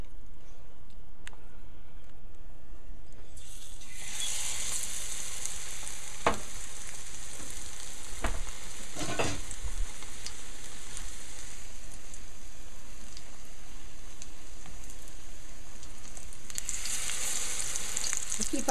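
Eggplant frying in butter in a pan on a medium flame, a steady sizzle that swells as pieces go in, with occasional stirring clatters and no talk.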